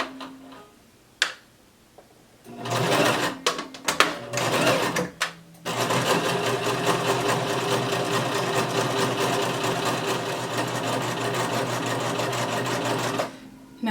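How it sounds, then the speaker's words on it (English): Sewing machine stitching around the edge of a maxi skirt, starting with a few short bursts and clicks, then running in one steady, loud, continuous whir for about eight seconds before stopping. "we're going to sew all the way around, keeping this edge lined up"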